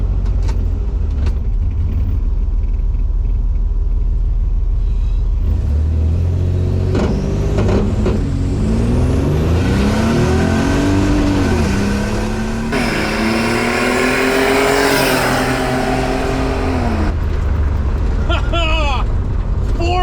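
A turbocharged all-wheel-drive Chevrolet S10 pickup roars loud and close on a drag track, revving hard through rising gear pulls with a raspy exhaust, its pitch climbing steadily as it accelerates.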